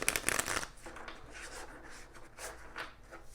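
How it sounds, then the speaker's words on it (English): A deck of tarot cards shuffled by hand for a card reading: soft, continuous rustling and sliding, louder at first, then a quieter steady shuffle with brief swells. "I'm actually going to shuffle on camera today."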